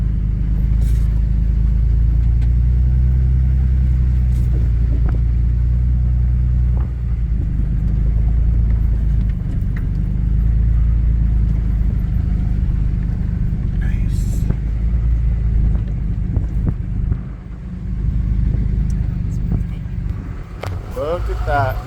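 A vehicle crawling off-road in four-wheel drive, a heavy continuous low rumble of engine and drivetrain from inside the cab, with bumps and rattles throughout.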